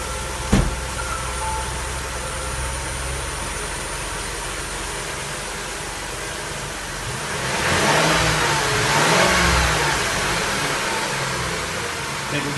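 A Mercury Monterey with P0316 and P0300 misfire codes starts up and runs at a steady mid-pitched idle, then revs up louder for a few seconds before settling back, heard close and continuous.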